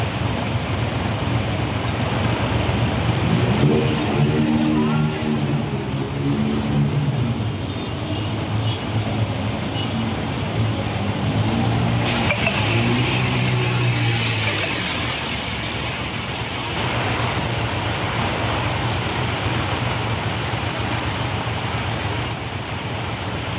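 Vehicles push through knee-deep floodwater on a Chembur market street in Mumbai during heavy monsoon rain. A constant watery rush carries engine hums that rise and fade as vehicles pass, with faint voices in the background.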